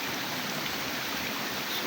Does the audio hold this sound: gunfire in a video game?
no